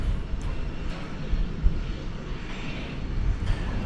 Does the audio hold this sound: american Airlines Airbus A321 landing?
yes